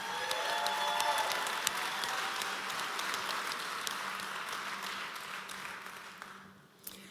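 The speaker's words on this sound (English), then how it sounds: "I think you should give him another round of applause" A live audience gives a sustained round of applause for a guest at a real estate leadership interview, dense even clapping with a few louder claps, fading near the end.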